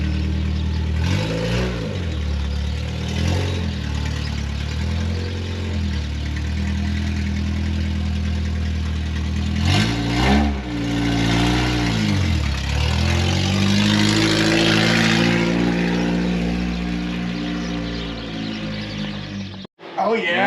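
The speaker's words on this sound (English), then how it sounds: "Make sure to do the full rip. Hit the VTEC, you know." A Honda car just out of storage revs hard several times, the engine climbing in pitch and then dropping back. The revs come through close and loud from inside the cabin, with people talking in between.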